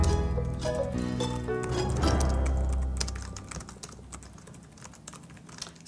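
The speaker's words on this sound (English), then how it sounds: "So I think I'm really getting the hang of this typing thing." Rapid typing on a computer keyboard in an office, a dense clatter of key presses that starts with a low musical hum underneath, then continues alone as quieter, uneven clicks.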